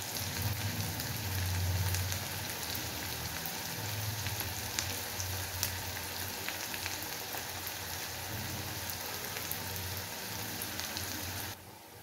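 Onions frying in a pan while chicken bharta is cooked, giving a steady, close sizzle that runs unbroken to the end with no voices over it.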